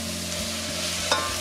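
Lettuce cooks down with onion and garlic in a pan for vegan Tunisian yabrak, a steady close sizzle and hiss with one brief stir or scrape near the end.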